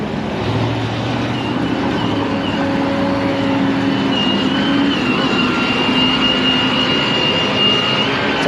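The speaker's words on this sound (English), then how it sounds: "It's a loud tow truck." A loud tow truck drives past on a street, its engine a steady, heavy roar that holds for the whole stretch with a low droning hum and no voices.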